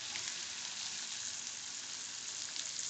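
Onions and cumin seeds frying in butter and a little oil for Mumbai black pav bhaji, a steady, dense hiss of sizzling throughout, close and even with no talk.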